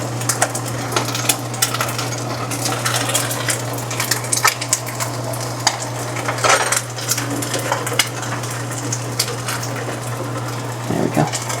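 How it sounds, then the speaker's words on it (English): Oil crackles and pops sharply in a frying pan, with irregular close clicks and spits over a steady low hum, and no talking. "Wipe up all the oil that pops out of the pan."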